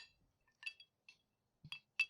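Glasses of an RTD Old Fashioned clink together in a toast, a few light, bright taps spaced out over a couple of seconds, close and alone in a quiet room.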